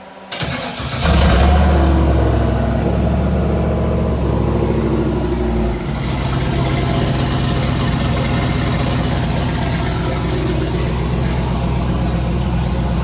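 A car engine cranks and catches with a brief surge. It then settles into a steady, loud idle with a low rumble that stays close and alone, and there is a slight shift partway through.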